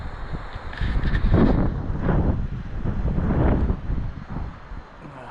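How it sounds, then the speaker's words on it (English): Strong wind gusting and roaring through trees, rising and falling in loud waves with a rushing, buffeting rumble close to the microphone. "It's windy as heck. I don't know if you can hear it."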